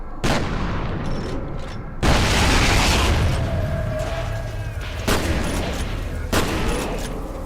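Dense gunfire and booming explosions in Left 4 Dead 2, a continuous loud barrage with sharp bursts and a heavy blast near the middle.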